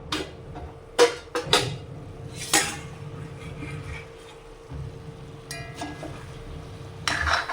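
Pumpkin curry being stirred in a cooking pot gives scattered metallic clinks and scrapes of a spoon against the pot, close and fairly loud, with quieter shuffling between strikes.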